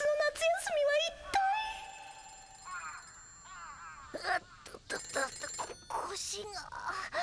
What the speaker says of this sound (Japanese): 東京ののっちゃんから電話とよ